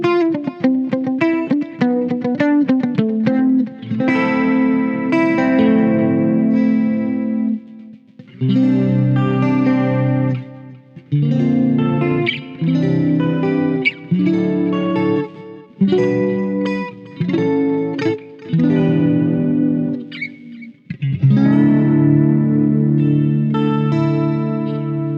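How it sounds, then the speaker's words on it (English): An electric guitar through a Boss GT-1 Fender Deluxe preset plays picked notes and sustained chords drenched in reverb, the ringing tails washing between phrases. "you can add a reverb like this"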